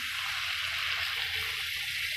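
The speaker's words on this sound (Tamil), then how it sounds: "தேவையான அளவு தண்ணி சேர்த்துக்கோங்க." Water poured from a tap into a pot of bottle gourd gravy with ground coconut and tomato, a steady, even hiss of running liquid that stays close and constant throughout.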